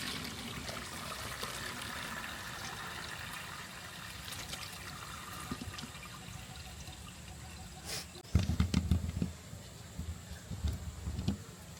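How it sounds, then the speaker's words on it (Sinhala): Water trickles and splashes as it drains from a gooseberry pickle mixture into a bucket, a soft continuous dribble that grows into a louder splashing pour near the end, with no speech. "අපි දැන් මේකේ වතුර ටික පෙරා ගමු බකට් එකකට තියලා"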